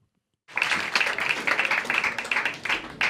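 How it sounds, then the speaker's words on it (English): A comedy club audience at the Comedy Cellar in New York claps as the comedian walks on stage. Dense, fairly close clapping bursts in abruptly after a short silence and keeps a steady, uneven patter to the end. "Oh, thanks, guys, for almost clapping until I made it to the stage."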